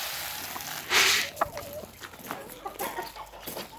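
Chickens cluck inside a henhouse, with short bursts of clucking and a brief louder squawk, close to the microphone over a steady rustling background.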